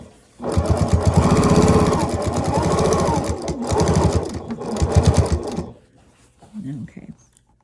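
A sewing machine stitches binding onto a quilt, a loud, close, rapid mechanical chatter running for several seconds with brief pauses, then stopping, followed by a short softer sound.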